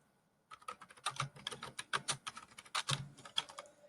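Rapid, uneven keystrokes on a computer keyboard, close and clear, with short pauses between bursts of clicks and no voices.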